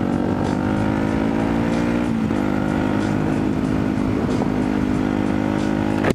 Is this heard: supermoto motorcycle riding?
yes